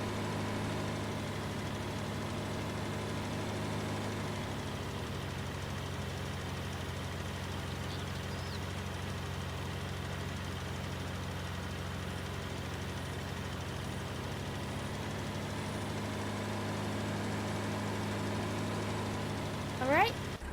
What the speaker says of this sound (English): if he heard this tractor operating, he would probably think this thing was about to explode